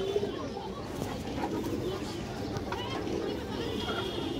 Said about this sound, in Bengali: এই যে 2 জোড়া কবুতর